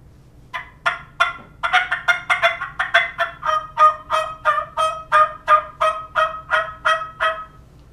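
A sonic dome turkey diaphragm call, a mouth call with a lid, imitates a turkey: a steady run of about twenty sharp, rhythmic yelps, close and fairly loud over faint background hum.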